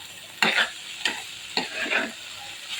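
Spiny gourd (kakrol) bhaji stirred in a frying pan, with three or four distinct spatula scrapes over a steady background sizzle, close and moderately loud with no voices.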